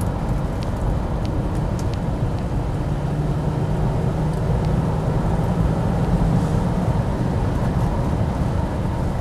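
A Rover P5B saloon pulls along steadily in top gear, its engine giving a continuous low, rumbling drone with road and wind roar layered over it, loud and close throughout.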